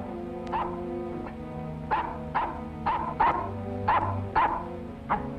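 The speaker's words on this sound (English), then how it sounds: "What the dickens are you barking at?" A dog barks repeatedly in short, sharp bursts, several spaced barks over a few seconds, fairly close and loud, with a low rumble underneath.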